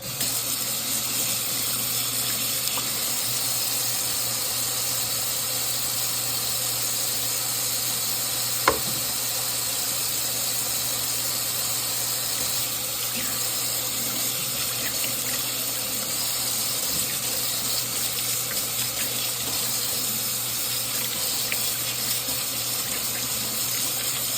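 Kitchen tap water runs steadily while carrots are washed, a constant close hiss and splash with one brief knock partway through and no talk.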